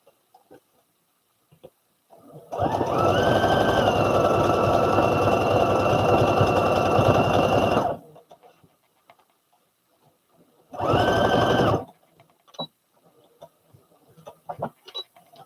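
A sewing machine runs while stitching sleeves for a garment pattern: one steady whirring burst lasting about five seconds, then a shorter second burst, with faint clicks and handling noises in the quiet between.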